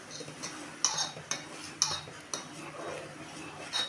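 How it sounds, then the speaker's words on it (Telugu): A spoon stirs flour into boiling water in a cooking pot, giving a steady series of sharp metallic clinks and scrapes against the pot about every half second over a soft bubbling hiss, close by, with no talking. "ఇదిగోండి నీళ్ళైతే కాగుకొని నేనైతే ఇప్పుడైతే పిండి అయితే వేసేస్తున్నాను"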